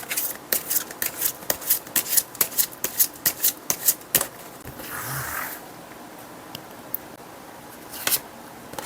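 Tarot cards are shuffled in a quick series of sharp riffling bursts, followed by a softer sliding sweep and a couple of isolated taps, close and clear with no talking.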